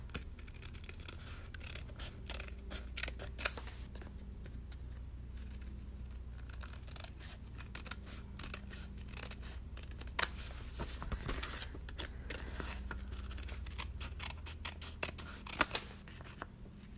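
Repeated crisp snips and slicing of scissors trimming paper for an envelope craft, close up, with soft handling rustles and a low background hum, no talking.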